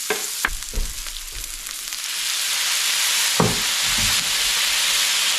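A splash of beer hits a hot paella pan, and the frying swells into a louder, steady steamy sizzle, with sharp utensil knocks and scrapes early on and again near the end.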